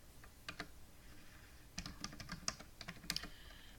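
Someone types a password on a computer keyboard, producing short bursts of quiet, close key clicks with brief pauses between them.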